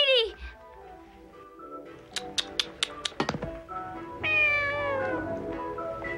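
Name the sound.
cat meowing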